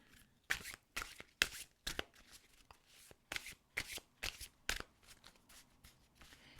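Oracle cards being shuffled by hand during a reading, a run of crisp riffling bursts in a quick irregular rhythm, close and fairly quiet with brief pauses between shuffles.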